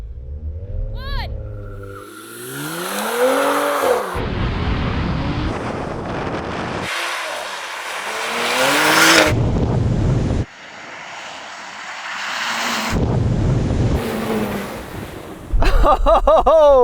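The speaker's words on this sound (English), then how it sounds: "That was the best launch I've had out of this car all day." A powerful Porsche 911 Dakar engine roars as it launches hard in an off-road drag race, revving up through several gear changes with loud wind buffeting, close and continuous.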